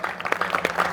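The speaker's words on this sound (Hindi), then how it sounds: "ताली" A brief burst of audience clapping for Hanuman at a Hindi hari-katha gathering in Delhi, a crowd of many hands clapping at close range with no talk over it.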